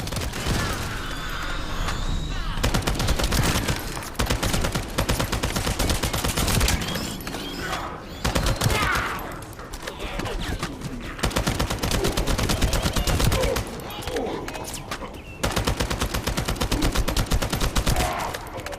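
Sustained gunfire from the video game The First Descendant, dense rapid bursts and automatic fire crackling loudly and almost without pause, with occasional heavier booms mixed in.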